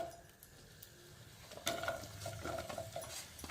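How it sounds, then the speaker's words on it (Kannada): Onions frying in hot oil for a tomato curry, a quiet sizzle with scraping and stirring against the pan growing busier partway through. "ಎಣ್ಣೆ ಕಾಯ್ದ ತಕ್ಷಣ ನಾವು ಈರುಳ್ಳಿ ಫ್ರೈ ಮಾಡ್ಕೊಳ್ಳೋಣ"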